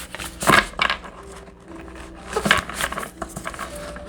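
Tarot cards shuffled by hand in a few brisk riffling, rustling bursts, close and moderately loud, with no talk.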